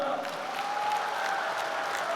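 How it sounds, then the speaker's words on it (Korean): An audience in a hall at a Korean political party's presidential primary convention applauds steadily, a dense wash of many hands clapping at moderate loudness with a faint tone running underneath. "여러분 큰 박수를 한번 주시길 바라겠습니다"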